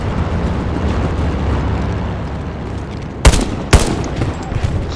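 Two sharp, loud gunshots crack close by in the World War II shooter Hell Let Loose, spaced about half a second apart over a steady rumbling battlefield background, with no speech.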